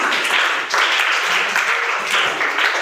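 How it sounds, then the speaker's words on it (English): A school class audience applauds a student speaker, a steady dense wash of clapping throughout, fairly loud and close with no voices over it. "give a huge round of applause for one and only Mr."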